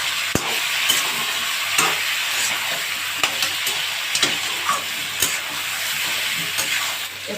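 Mutton hisses and sizzles steadily in a pan with browned onions for a Bengali home-style mutton curry with green chillies, and a spoon stirs and scrapes through it in repeated sharp clatters, loud and close.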